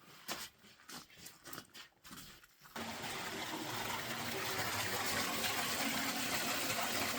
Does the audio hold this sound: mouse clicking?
no